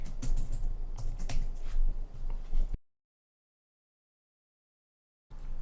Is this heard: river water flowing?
no